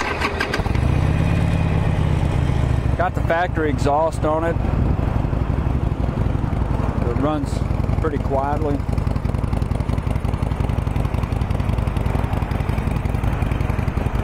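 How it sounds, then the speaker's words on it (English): A 2014 Harley-Davidson Sportster 48 XL1200X motorcycle engine idles steadily with a low, rumbling throb throughout, while someone talks over it. "Fire it off and let you listen to it."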